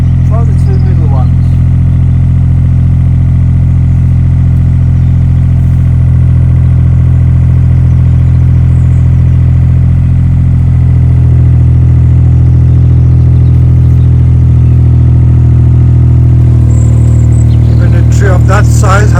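A digger engine runs steadily at close range, a deep, constant rumble with a heavy low-end drone, while it lifts a yew tree; the tone shifts slightly partway through and voices talk over it.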